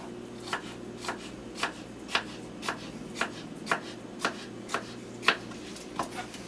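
A knife chops cucumber into small cubes on a board, about a dozen crisp, evenly spaced chops close by, with a low steady hum underneath and no talk.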